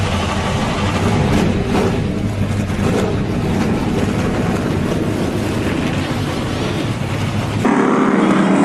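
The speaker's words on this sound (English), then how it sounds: "The bottom line is, gentlemen, start your engines!" NASCAR race car engines starting and revving together at San Diego Speedway, a dense, continuous, loud roar with deep rumbling tones that shifts in character near the end.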